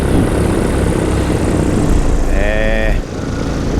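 A paramotor engine runs during a cold early-morning powered paraglider flight, a loud steady propeller drone that drops off near the end, with a brief tonal whine just before.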